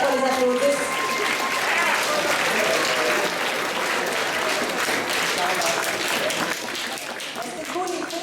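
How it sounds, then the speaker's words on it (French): An audience applauds candidates at a student election speech event, loud dense clapping throughout with voices and cheers mixed in, easing slightly toward the end. "J'aimerais qu'on les applaudisse."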